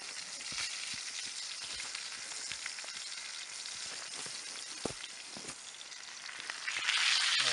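Food sizzling in a cast iron pan over a campfire in snowy backcountry, a steady close frying hiss with scattered pops and crackles throughout, getting slightly louder at the end.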